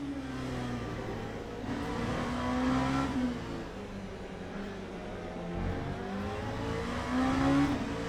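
LMP2 race car in Le Mans Ultimate, its engine note falling and rising as it downshifts and accelerates, a loud continuous whine with gear-change dips, no voices over it.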